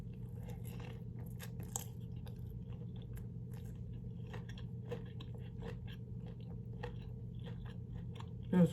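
Someone bites and chews a crunchy shrimp egg roll from Chinese takeout, with scattered crisp crunches over a low steady hum, close and fairly quiet.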